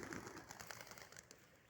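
Pigeons gather at a bird feeder, giving off faint, soft cooing calls that stay distant and low against a quiet outdoor hush.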